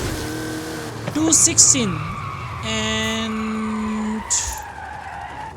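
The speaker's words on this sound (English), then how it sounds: "so technically speaking, this car is actually really fast" Cars in the Forza Horizon 5 racing game rev, accelerate and skid with sharp tire squeals, while someone talks over the engine noise and game sounds.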